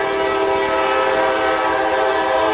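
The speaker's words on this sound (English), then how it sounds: "There's a train going by! Right in the middle of our interview!" A train rumbles past close by while its horn blares in a long, steady, loud blast.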